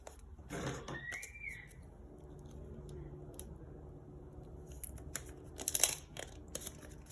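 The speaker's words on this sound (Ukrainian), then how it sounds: "Відкриваємо наш пакетик." A paper surprise packet is torn and opened by hand, with close, soft rustling and crinkling of paper, a brief tearing rip early on and sharper crackles near the end, without speech.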